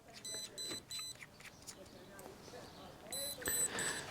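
Repeated electronic beeping from an airsoft gear device, a series of short bursts followed by a longer tone near the end, moderately loud over background noise.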